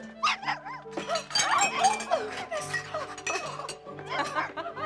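A dog barks indoors in a home, a handful of sharp yaps scattered across a few seconds, mixed with laughter and excited voices close by.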